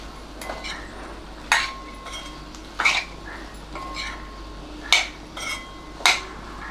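A spoon scrapes and clinks against a pan while brinjal and potato sabji is mixed with peanut powder, giving about five sharp metallic knocks at irregular intervals over a quiet background.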